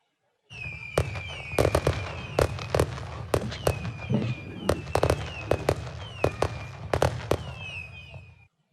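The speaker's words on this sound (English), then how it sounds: "So now another set of fireworks for our paper award winners." Fireworks crackle and pop in a steady barrage, sharp bangs scattered over whistling rockets, loud and continuous with no voices.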